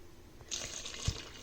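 Water poured into a pan of red enchilada sauce, a steady splashing pour that starts half a second in and runs to the end, close and fairly quiet with no talk.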